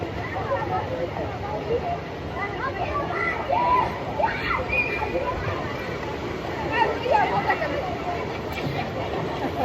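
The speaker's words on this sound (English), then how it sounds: "He always wants to jump off really hard and splash." Water sloshing and splashing in a swimming pool as a child jumps in and plays, continuous wet churning throughout with echoing voices and crowd-like babble around it.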